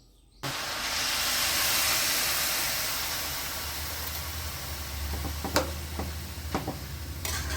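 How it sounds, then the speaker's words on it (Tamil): Milk poured into softened, sautéed carrots for carrot halwa, raising a steady steamy hiss with a low rumbling pour underneath and a few sharp ticks near the end, with no talking. "இந்த ஸ்டேஜில் நம்ம பால் ஊற்றிக்கலாம்."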